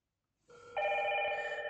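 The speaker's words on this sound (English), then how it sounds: "the system is now ringing" A HIKVISION indoor intercom station starts ringing after a short silence: a soft tone enters, then a bright, sustained electronic ring swells up and holds steadily, clear and close with no talk.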